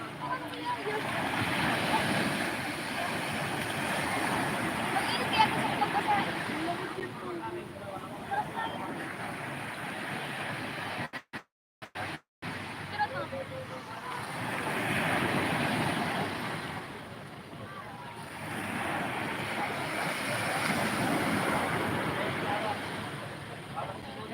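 Waves breaking along a beach in Barangay Calayo roll in as a continuous surging wash, swelling and easing in slow cycles with wind noise on the microphone and a short break in the middle.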